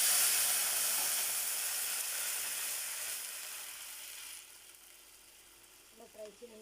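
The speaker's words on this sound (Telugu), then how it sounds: "ఇలా ఆవాలు చిటపట్లు ఆడుతున్నప్పుడు" Mustard seeds splutter and sizzle in hot oil while tempering for tamarind rasam (chinta pandu chaaru). The loud hiss fades gradually, followed by a few faint pops near the end.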